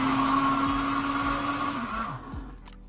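A blender pulses ingredients for an iguana-on-a-stick recipe, a loud steady whirring motor running for about two seconds before winding down and cutting off.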